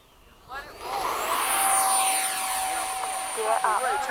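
An FMS 70mm F/A-18 RC jet on a touch and go rises into a loud, whining ducted-fan roar that sweeps in pitch as it passes close by, with a voice briefly heard near the end.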